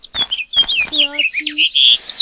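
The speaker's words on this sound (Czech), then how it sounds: "Nějací ptáci" Birds in the Minecraft Mo' Creatures mod give several quick high chirps and tweets in a short burst, close and clear, with a speaking voice over them.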